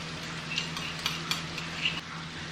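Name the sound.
ginger garlic paste added to a pan, sizzling and stirred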